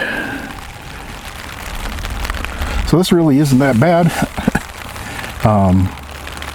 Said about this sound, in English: Rain hitting the top of the tarp, and it's kind of relaxing.